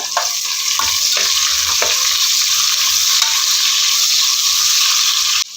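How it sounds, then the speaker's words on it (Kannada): Onions frying in ghee with garam masala for kushka rice, a steady loud sizzle filling the whole stretch with a few soft stirring scrapes early on, no voices. "ಈರುಳ್ಳಿ ಹಾಕ್ಕೊಂಡು ಚೆಂದ ಬ್ರೌನ್ ಕಲರ್ ಬರುವ ಹಾಗೆ ರೋಸ್ಟ್ ಮಾಡ್ಕೊಳ್ಳೋಣ"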